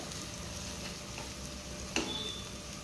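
Spices sizzle softly in a pan for bharit, an aubergine dish, while being stirred, with a steady faint frying hiss and one brief scrape of the spoon near the end.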